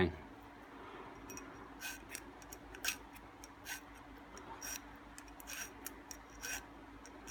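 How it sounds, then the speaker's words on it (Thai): Faint, irregular scraping strokes of a fine file rasp against a metal 16-inch fan blade, each stroke brief and soft over a quiet background hum. "ตะไบต้องใช้ตะไบละเอียดเนาะ"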